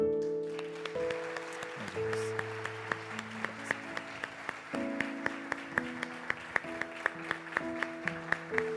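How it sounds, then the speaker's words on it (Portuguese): A church congregation claps for the Lord during a worship service, a moderately faint, steady patter of applause over sustained keyboard chords, with regular sharp beats punctuating it. "Vamos aplaudir ao Senhor?"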